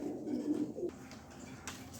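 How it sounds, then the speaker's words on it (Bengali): A pair of large-size pigeons cooing nearby, a low throaty coo running steadily through the first part and fading into quieter background after about a second. "দোনোটা কবুতরই মাশাআল্লাহ অনেক বড় সাইজ, বিগ সাইজের"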